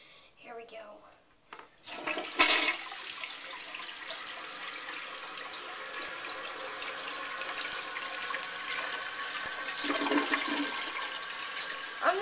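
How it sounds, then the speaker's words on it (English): A 1991 American Standard Cadet standard-height toilet flushes after a sharp handle click, a steady rush of water running for about ten seconds, close and moderately loud. "this isn't a really good flush"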